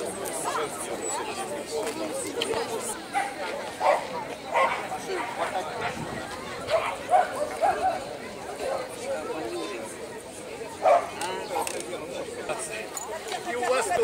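Dogs bark and yip intermittently amid a murmuring crowd at a city dog show in Mariupol, short barks rising over steady chatter at moderate distance, with people talking throughout.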